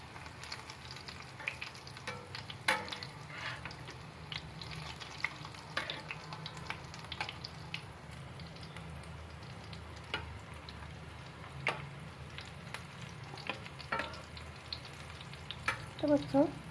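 Fish-roe fritters (macher dimer bora) sizzle steadily in hot oil in a home kitchen, a continuous crackling fry broken by scattered sharp pops and spatters, close and moderately loud throughout.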